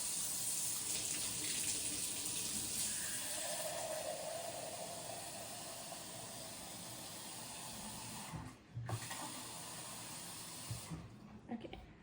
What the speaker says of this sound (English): Now I'm going to get 500 grams, I think. No, sorry, 325 grams of hot water.